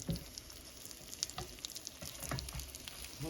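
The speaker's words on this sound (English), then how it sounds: "Hopefully get a little sizzle." Steady crackling sizzle with scattered sharp pops as bread cubes for croutons toast on a hot grill pan, close and moderately loud, with no voices over it.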